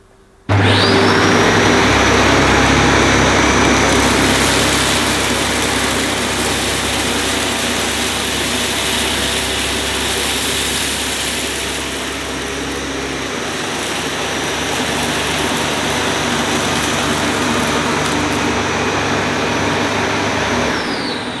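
A Dyson Cinetic Big Ball Animal vacuum cleaner runs loud and close with a steady motor roar and airy whine, starting up abruptly and swelling slightly as it is pushed slowly forward and back across a floor.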